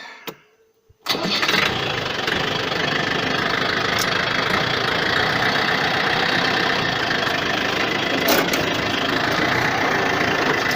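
A Yanmar FX 305 tractor engine cranks and catches after a short pause, then settles into a loud, steady, close diesel running drone with slight knocking, heard alone for about ten seconds while raking alfalfa hay.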